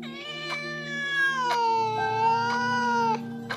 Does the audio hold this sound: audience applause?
no